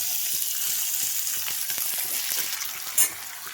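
Tomatoes and green chillies cook in a pan with a steady, moderate sizzle, punctuated by a series of light stirring clicks and a brief sharper burst near the end.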